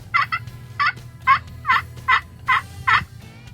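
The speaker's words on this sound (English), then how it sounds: "And then that striker going across the slate" Turkey slate call scraped with a striker, producing seven evenly spaced yelping clucks, close and clear over a low steady hum, with no talking.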